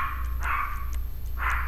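A small dog barking inside a room, two short high yaps about a second apart over a steady low hum, moderately close.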